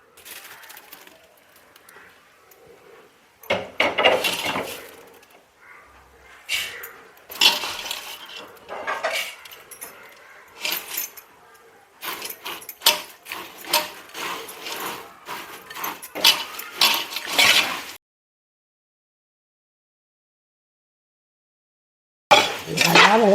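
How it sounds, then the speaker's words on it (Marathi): Spiced tempering poured over puffed rice for Kolhapuri bhadang, then mixed: irregular rustling and clinking bursts of stirring in a pan or bowl, fairly close, broken by pauses and a stretch of silence near the end. "आता ही फोडणी मी चिरमुऱ्यावरून वतून घेणार आहोत आणि सगळं मिक्स करणार आहोत."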